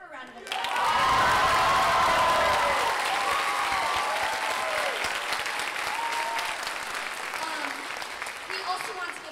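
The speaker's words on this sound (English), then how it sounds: "let's give her a round of applause" A high school theatre audience at a Little Shop of Horrors performance breaks into applause for the pit conductor. The clapping swells quickly and stays full and steady, with some cheering mixed in, before thinning slightly near the end.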